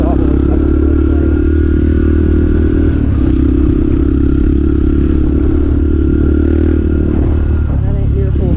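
A motorcycle ridden at part throttle, its engine droning steadily and loudly up close under wind rush, with a voice talking over it throughout.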